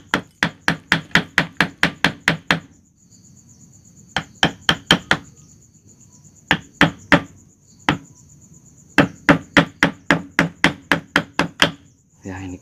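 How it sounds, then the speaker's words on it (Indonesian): Sharp metal-on-metal strikes of a hammer driving a chisel to split an ileng-ileng stem, delivered in quick bursts of eight to ten blows separated by short pauses, loud and close against a faint insect drone. "Ya, ini kita pakai pahat."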